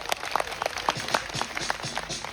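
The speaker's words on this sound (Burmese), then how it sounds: "ဒီလက်ခုပ်တန်ကိုလည်းအားလုံးကြားပြီးတော့ပါပြီ" A live comedy-show audience claps for a young girl, producing a dense, even patter of many hands that continues steadily at a moderate distance.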